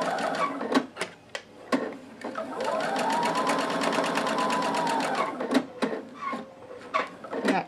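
A sewing machine stitches a quilt block seam, with short bursts of rapid needle clatter around a longer continuous run in the middle, close and clear, with a few sharp clicks between runs.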